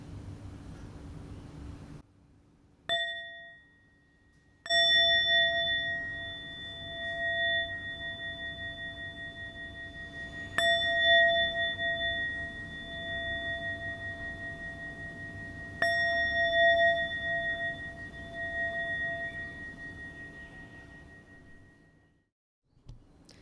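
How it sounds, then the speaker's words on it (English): A bell rings three times, each clear metallic strike ringing out and slowly fading before the next, with quiet gaps in between. "Let's listen to 3 sounds of the bell."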